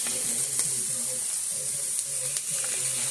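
Sage sausage sizzles in a hot pan, a soft continuous frying hiss with faint crackles and occasional stirring clinks, fairly quiet and alone.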